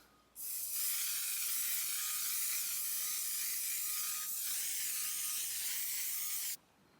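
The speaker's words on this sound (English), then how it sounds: "Sometimes I will spray only right here just to lock it in." Setting spray misted onto a face at the end of a foundation routine: one continuous, close, steady hiss lasting about six seconds, starting and stopping abruptly, with no talking.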